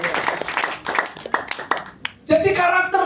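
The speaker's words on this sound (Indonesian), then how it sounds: "Beri tepuk tangan dulu bagi Tuhan." A church congregation claps in quick bursts amid loose chatter and voices, then the clapping swells into a denser burst near the end.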